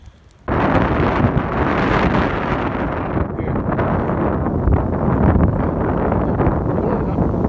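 Strong wind blowing on a hill, a sudden loud roar of gusts buffeting the microphone that keeps up as a steady, rough rush for several seconds.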